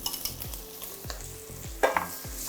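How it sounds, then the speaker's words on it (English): Vegetables stir-frying in a hot pan, a continuous close sizzle broken by regular scraping strokes of a utensil, with a brief louder clatter near the end. "What we're going to do right now is to use our vegetables and stir fry them."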